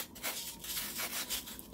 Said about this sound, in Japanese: 丁寧に紙やすりで角を落としていきます